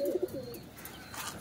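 Pigeons kept for sale, including white Allahabadi and teddy birds, give a couple of short low coos up close, then fall quiet against faint background hiss.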